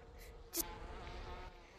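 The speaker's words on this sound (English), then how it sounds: "I think the bees are getting faster." Bees buzz in the video game Gorilla Tag, a faint thin droning hum with a brief louder swell partway through.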